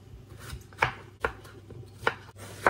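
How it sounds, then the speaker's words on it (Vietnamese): A knife chops a bell pepper steadily on a cutting board, four or five crisp strikes at an even pace, close and clear. "Mình cắt một trái ớt chuông,"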